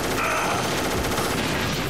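Dense gunfire and explosive blasts in the PS1 game Metal Gear Solid, a loud continuous burst of rapid shots and booms filling the whole moment without any voices.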